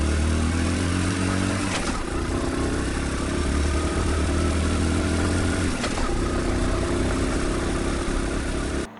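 A blender whirling raspberry vinaigrette, a loud continuous motor drone held steady for several seconds close by, cutting off at the end.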